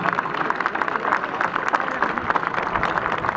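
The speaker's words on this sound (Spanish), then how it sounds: "fuerte el aplauso para ellos también en este desfile cívico-militar" A crowd keeps up steady applause at a civic-military parade in Monte Comán, with dense clapping and a faint murmur of voices.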